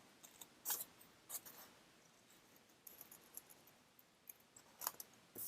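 Scissors cut paper heart shapes for a Valentine's Day owl craft, making faint, close snipping bursts spaced a second or more apart in a quiet room.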